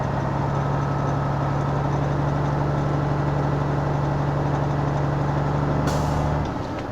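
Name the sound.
truck air brake system 'sneeze' during pre-trip inspection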